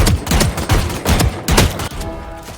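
Rapid bursts of Bandit gunfire from the video game Valorant, loud and close, about five sharp shots in quick rhythm, each ringing briefly before the next.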